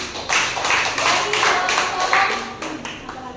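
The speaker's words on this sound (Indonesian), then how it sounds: "Oke, tepuk tangan untuk Mimi." Students in a classroom clap for a classmate after her answer in a social studies lesson, a short burst of several hands with distinct, uneven slaps that fade slightly toward the end.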